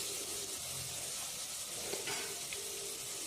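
Tomatoes sautéing with onions in a hot pan, a steady bright sizzle with soft stirring scrapes, close and fairly quiet.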